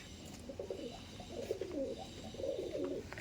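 Andhra pigeons, a male and a female, coo in soft, low, rolling phrases close by, repeating in a steady rhythm over a faint background hum.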